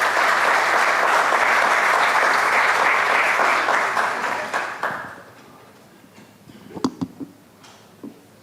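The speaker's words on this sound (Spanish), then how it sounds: "Un fuerte aplauso para ellos" A seated audience at a talk on wood in architecture gives sustained, dense applause that fades after about five seconds, leaving a few scattered claps and small knocks in a quiet room.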